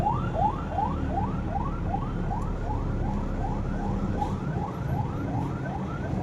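Emergency vehicle siren wailing in repeated rising sweeps on a congested Skyway-to-Makati morning commute, steady and fairly close over the low rumble of slow traffic.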